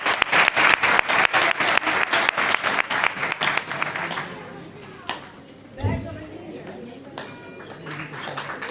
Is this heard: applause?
yes